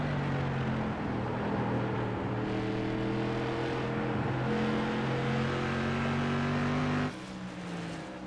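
SK modified race cars roar down the front straightaway of an oval track, several engines droning loudly and continuously with rising and falling pitch, the pack's sound dropping off near the end.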